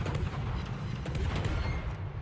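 Warship main guns firing in the naval video game World of Warships, a dense continuous roar of heavy booming salvos layered over one another, loud and close.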